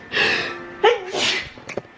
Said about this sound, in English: It's making me sneeze.